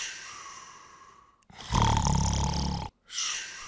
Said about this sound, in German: Ein alter Mann schnarcht.